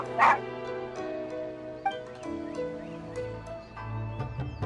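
A dog in the Genshin Impact video game yips, whimpers and gives short barks in a whiny, uneven sequence over soft background music, close and moderately loud.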